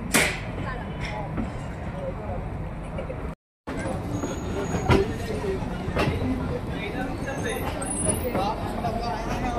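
The Kalka-Shimla toy train runs on its narrow mountain rails, a steady rattling rumble heard from on board, with a brief cut partway and people chattering in the carriage.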